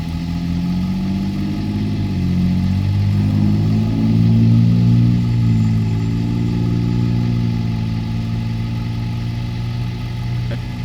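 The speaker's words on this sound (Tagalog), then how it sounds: "Ayan, isasakay na yung sasakyan namin." A broken-down car is loaded onto a tow truck on a roadside, with a loud engine rumbling and idling steadily throughout, swelling briefly in the middle before settling back to a constant drone.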